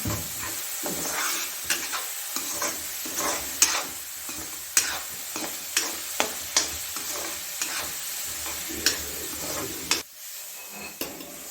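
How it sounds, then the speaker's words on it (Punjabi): Green peas roasting in a pan for aloo matar gobhi tikki, a steady close sizzle broken by repeated scraping stirs and spoon clinks, with no talking. "ਜਿਹੜੇ ਆਪਣੇ ਮਟਰ ਆ ਉਹਨਾਂ ਨੂੰ ਇਦਾਂ ਭੁੰਨ ਲੈਣਾ ਜੀ"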